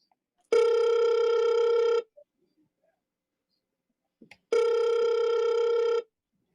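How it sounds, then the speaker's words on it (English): A telephone rings with two long electronic tones, each lasting about a second and a half, separated by a pause of about two and a half seconds. The rings sound clear and close, with only faint clicks between them and no talking. "I sent it to voicemail, but no, I sent it with a message, but it kept ringing."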